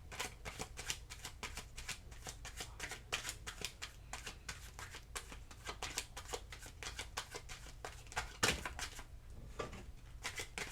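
Tarot cards being shuffled by hand, a steady run of crisp riffling flutters lasting the whole stretch, close and fairly quiet, with no voice over it.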